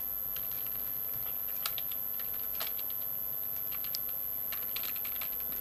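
Computer keyboard typing of CSS code, steady scattered keystrokes close and fairly quiet over a constant background hiss, with no talking.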